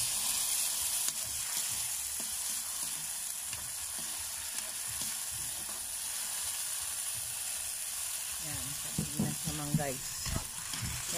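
Sardines frying in a pan, a continuous low sizzle with faint scraping, then a burst of louder clatter and tapping toward the end, with a voice speaking partway through.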